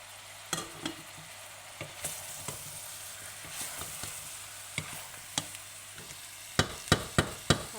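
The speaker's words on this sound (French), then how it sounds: "On laisse bien revenir tout doucement. On fait bien saisir la viande." Meat sears in a pan for daube provençale, giving a steady, soft sizzle close by, broken by several sharp scrapes and taps of a utensil against the pan, which grow more frequent toward the end.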